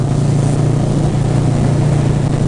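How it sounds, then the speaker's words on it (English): Big motorcycle engine running steadily while riding at night, a constant loud low drone with an even hum and no pauses throughout. "So this right here is a big bike."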